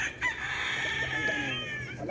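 Fighting roosters on a gamefowl farm in Tanauan City crow in a long, loud, strained call close by, with other birds faintly clucking in the background.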